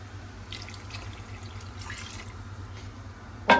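Water is poured into a pot of browned chicken with turmeric, ground onion and garlic for biryani, a soft, steady trickle and splash under a low kitchen hum, ending with a brief clatter.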